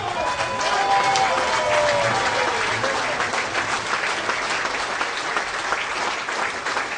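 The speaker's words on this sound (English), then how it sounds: "give a loud round of applause to these, our great leaders" A standing crowd of comrades applauds its party leaders at the opening of the 30th People's Progressive Party Congress, a dense, steady roar of clapping that holds loud and even for the full seven seconds.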